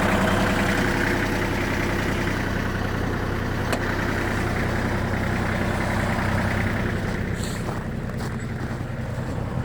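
A Kubota GL27 compact tractor's small diesel engine idles steadily and close by, a low continuous rumble with a faint metallic rattle, holding even throughout.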